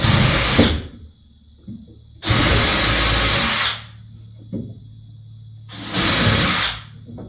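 A power drill drives screws into a wooden board while dormers are built out in a loft: three loud, close whirring bursts, each about a second long, separated by short quiet pauses.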